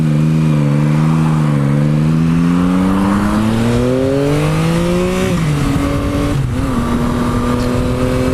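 A 2021 Yamaha MT-09 SP motorcycle pulls away in second gear, its engine tone climbing smoothly and loudly, then easing as revs drop, heard close with no talk over it.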